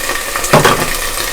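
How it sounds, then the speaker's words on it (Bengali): A cinnamon stick, four cardamom pods and a bay leaf hit hot oil while beef haleem is being made, giving a short, sharp sizzling burst against a quiet kitchen background. "একটা দারচিনি আর 4টা এলাচ আর একটা তেজপাতা দেওয়ার পরে সামান্য তেল ছিটতে যায়"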